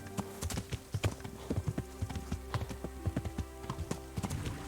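Horse hooves galloping in the medieval game Kingdom Come: Deliverance, a steady rapid clip-clop rhythm at moderate volume over a soft background.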